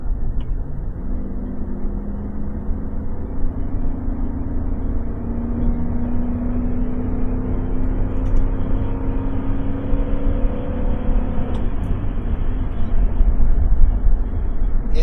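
A car engine pulls harder as the driver accelerates up a hill on a test drive checking a mass air flow sensor, a steady low rumble with rising tones that stays loud and close throughout.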